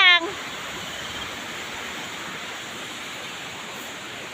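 St. Catherine Falls in Tiboli, South Cotabato roars steadily as a broad, even rush of falling water, with a brief voice at the very start.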